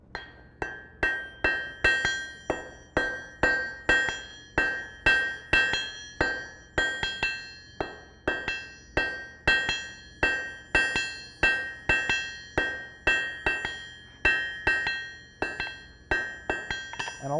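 A blacksmith hammers a forge weld on an anvil, sharp ringing metallic blows repeating in a quick steady rhythm, loud and close with no talk.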